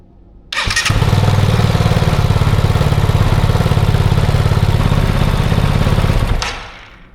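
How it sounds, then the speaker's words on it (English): A Kove 450 Rally motorcycle engine fires up and idles loudly in a steady, even putter for several seconds before cutting off. "We will start the engine again."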